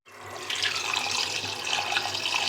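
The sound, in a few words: tap water running while washing raw chicken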